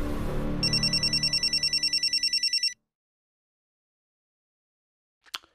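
A telephone rings in sharp repeated electronic trills while someone calls a doctor at night about a heart attack case, loud and near, then cuts off into silence before a brief faint knock.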